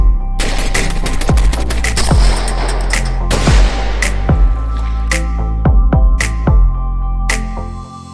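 Repeated gunshots from a Taurus TX22 .22 pistol fired outdoors, sharp close cracks in quick irregular succession, some overlapping, with ringing echoes and a low steady background hum.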